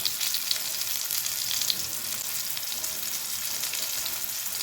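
Stuffed bitter gourds (karela) fry in oil in a pan with a dense, continuous sizzle and faint spattering, close and steady throughout, with no speech.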